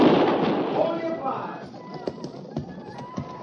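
Gunfire rings out in a 1950s western radio drama set at Fort Laramie. A heavy burst opens, followed by scattered sharp cracks, with voices speaking throughout.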